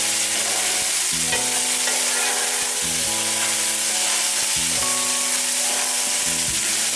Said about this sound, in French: on va cuire jusqu'à ce que le liquide soit évaporé